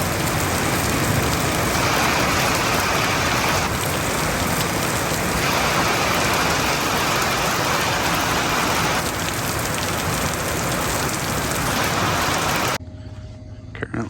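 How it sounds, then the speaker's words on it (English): Heavy rain pours steadily at a dirt track on a Saturday morning during a Wisconsin state championship, a dense, loud, unbroken hiss of drops on surfaces that continues for most of the clip before abruptly cutting away. "It's raining a lot."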